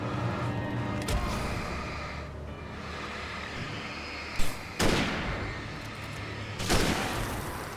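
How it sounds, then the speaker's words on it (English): Hunting rifle shots in the Alan Wake game, two or three sharp isolated cracks spaced a couple of seconds apart over a low ambient rumble. "Let's see how good this hunting rifle is"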